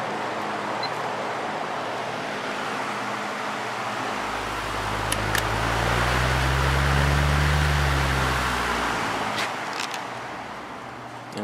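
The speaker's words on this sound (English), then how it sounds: "This motor has a very long spin down time" Lakewood HV fan motor spinning down, a broad steady whoosh of air with a low hum that swells and then slowly falls as the blades coast toward a stop.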